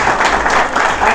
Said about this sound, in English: I think they should all have a big round of applause for doing that.